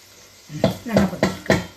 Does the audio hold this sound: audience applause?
no